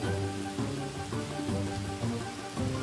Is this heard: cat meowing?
no